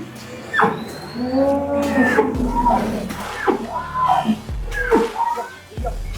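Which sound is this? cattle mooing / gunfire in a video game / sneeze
cattle mooing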